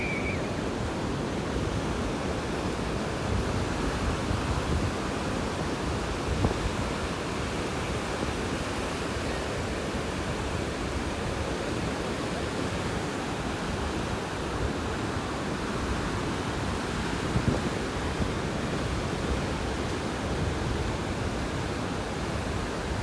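Surf washes steadily onto Rosarito Beach in Mexico, a continuous broadband roar of breaking waves with wind, close and fairly loud, with no voices over it.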